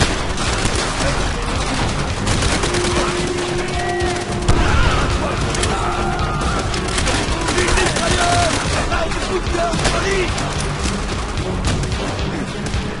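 Japanese machine gun fire in the video game Call of Duty: World at War comes as loud, continuous, dense bursts of automatic fire mixed with battle noise, with voices shouting over it.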